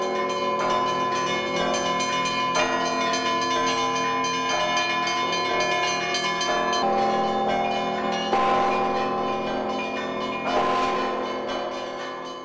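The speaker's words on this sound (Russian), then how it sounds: "и перезвон праздничный" Festive church bells peal at the Transfiguration Cathedral in Dnipropetrovsk, many bells ringing together in a dense, continuous chime with fresh strikes layered over lingering tones, loud and steady throughout.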